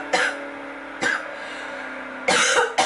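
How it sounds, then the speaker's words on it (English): A person coughs close by: a quick cough, another about a second later, then a longer double cough with a short tail, each sharp and loud over a quiet hum. "Sorry, I got a cough."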